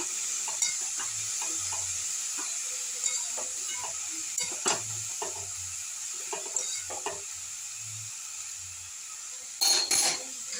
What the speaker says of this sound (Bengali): নেড়ে নেবো এইভাবে, নিয়ে আমি ঢাকা দিয়ে দেবো।